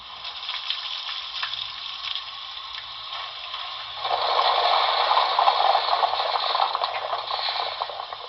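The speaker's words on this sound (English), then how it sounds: "That's coal fill and auger." Coal fill and auger effect from the Paragon4 sound system of a BLI NYC Commodore Vanderbilt Hudson #5344 model locomotive: a steady mechanical rattling and grinding that grows louder and denser partway through, heard alone.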